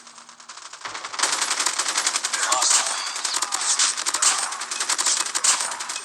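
A Call of Duty machine gun with a 100-round magazine fires in a loud, fast, sustained burst after a short quiet start, the rapid shots running together almost without a break.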